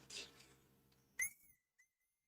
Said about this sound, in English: Right, so this is the whistle.